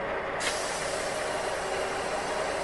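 Releasing the air brakes on a truck's trailer sets off a sudden sharp burst of air, followed by a steady, fairly faint hiss that runs on evenly without letup.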